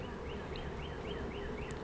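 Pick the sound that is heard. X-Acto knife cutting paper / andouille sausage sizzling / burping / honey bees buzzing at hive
honey bees buzzing at hive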